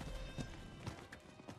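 Horse hooves clip-clop in Diablo IV, a steady run of soft game-style footfalls with an occasional faint whinny over a low ambient bed, fairly quiet and brief.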